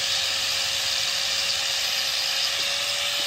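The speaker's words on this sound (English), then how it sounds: "grinding down brake pads with a grinder, no respirator" Angle grinder grinding down brake pads outdoors, a steady high-pitched whine with a constant tone holding level and loud throughout.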